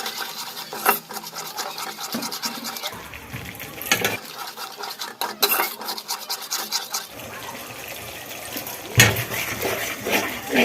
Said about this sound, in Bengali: এইভাবে মশলাগুলো হালকা হালকা জল দিয়ে আমি কষে নেবো, আর কড়াইয়ের মধ্যে লেগে যাচ্ছে।